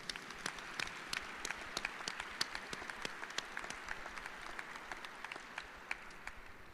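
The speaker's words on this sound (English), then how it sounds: "So everybody, please, round of applause." An audience at an Air Force test wing change of command ceremony gives a round of applause, a steady patter of many hands clapping across the hall, moderately loud and sustained with no voices.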